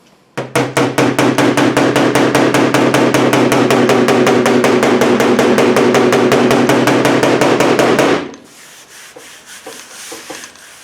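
A body hammer taps rapidly and evenly on the sheet-metal decklid of a 1968 Mustang, forming a loud, close, continuous rattle of strikes that stops abruptly, leaving faint rubbing sounds.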